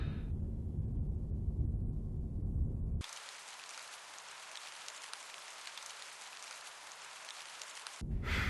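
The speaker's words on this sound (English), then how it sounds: "Why does it always rain in England?" Video game rain in an English setting in Her Majesty's Spiffing: after a low rumbling ambience, a steady hiss of rainfall takes over and holds evenly for several seconds before the scene shifts back.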